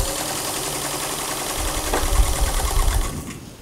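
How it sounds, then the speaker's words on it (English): A sewing machine runs a steady straight stitch, attaching lace along the leg edge of wide-legged McCall's 8260 pants, a continuous close mechanical whir that grows slightly louder toward the end, then stops, with no talking. "doing just under 1/4 of an inch straight stitch all the way down"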